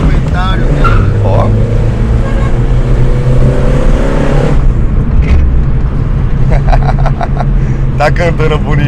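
A loud car engine revs hard nearby, with a steady roar, a rise and drop around the middle, and a voice talking over it.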